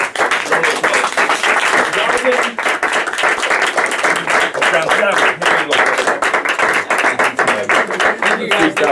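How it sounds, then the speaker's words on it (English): Audience applauding a young man at a church service, steady dense clapping filling the room, loud and sustained with scattered cheers, continuing throughout. "give him a round of applause"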